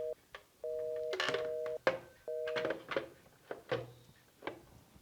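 A telephone is dialed with a quick series of beeping tones, then rings with steady electronic trills, faint and close, with only scattered soft handling noises.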